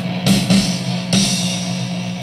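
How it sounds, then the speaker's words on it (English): A recorded drum take plays back, with a few loud broadband hits landing in a steady, tight rhythm over a sustained low tonal bed, heard close with no talking. "Wow. That's a good drum take."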